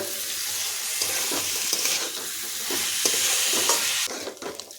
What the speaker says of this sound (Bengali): এখন চালটা এর মধ্যে দিয়ে দিচ্ছি, মিনিট ভেজে নেব।